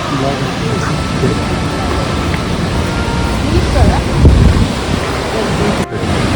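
Nanemachi waterfall in the Sahyadri hills of Maharashtra during the monsoon, a steady, loud broadband roar of falling water with rushing, wind-like noise that swells slightly midway.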